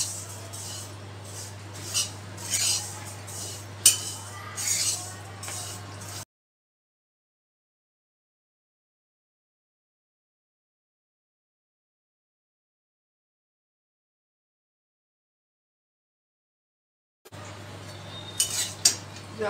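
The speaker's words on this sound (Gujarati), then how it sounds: "હવે આપણે એને બરાબર શેકી લેવાની છે." A spoon stirs and scrapes salted, turmeric-coated fennel seeds being dry-roasted in a pan for mukhvas, with steady close rattling and clinks and a silent gap in the middle.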